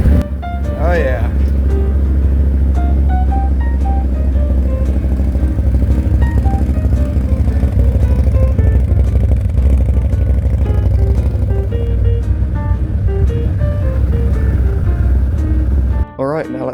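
A Maverick's engine runs right after a new drive belt was fitted, with a loud, steady idle that rises and falls in pitch across several revs and then cuts out abruptly near the end.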